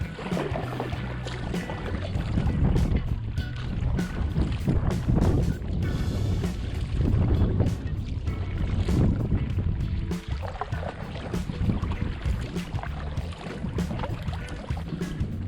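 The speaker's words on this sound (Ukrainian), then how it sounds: "Сьогодні такий досить вітряний день. Вітер сильний" Strong wind buffets the microphone on the Western Bug river, with gusty roaring and splashing from a small boat, steady throughout with no voices.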